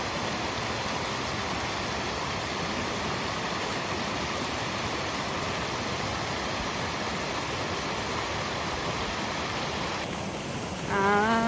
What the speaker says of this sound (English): There's a waterfall right here I'm gonna show you.